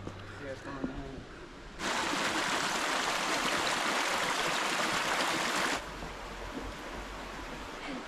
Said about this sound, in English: say goodbye to the beautiful stream and water